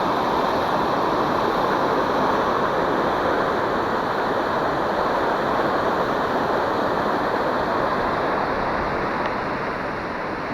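Water pours steadily over a small weir on a rainy day, a loud, continuous rushing roar that fills the whole scene without a break.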